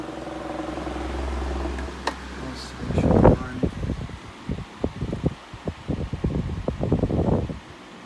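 A 1998 Lasko 16-inch desk fan with a warped blade, a steady whirring hum at first, then a louder, uneven wobbling flutter with rhythmic thumping pulses as it runs, close to the microphone.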